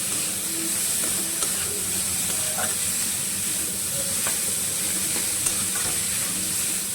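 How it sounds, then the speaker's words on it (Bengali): Steady sizzling from a hot pan as cauliflower is stirred and fried, with occasional light scraping clicks throughout. "ফুলকপি দিয়ে নাড়াচাড়া করে"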